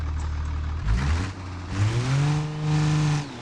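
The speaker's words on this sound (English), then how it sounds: "that Cummins is screaming with that turbo" A turbocharged Cummins diesel truck engine in the BeamNG driving game, loud and close, revving up in rising surges with a whirring turbo tone that climbs and holds before easing off.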